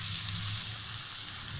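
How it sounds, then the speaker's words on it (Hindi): Potato and onion pakoras deep fry in hot oil, giving a steady, close, bubbling sizzle with no talk. "ये देखिए, पकोड़े हमारे फ्राई हो गए।"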